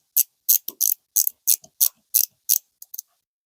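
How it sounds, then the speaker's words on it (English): An ICON low-profile hand ratchet clicks in quick, close bursts of sharp metallic pawl ticks, about a dozen short strokes with brief gaps between them and no talking. "I'm getting a little crazy with the ratchet there"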